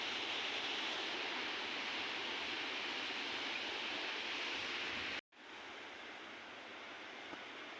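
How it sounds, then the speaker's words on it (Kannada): The flooded Bhima river rushes past in a dense, steady roar of water, continuous and fairly close, with a brief break near the end before the flow resumes. "ಇತ್ತನ್ ಹೊಂಟದ್ ನೀರು."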